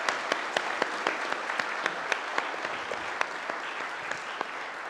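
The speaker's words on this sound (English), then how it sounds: "Let's express our appreciation through another clap." Clapping from a modest audience at a public talk on religion, with many hands at a steady pace and a few sharp, distinct claps standing out, lasting the full five seconds.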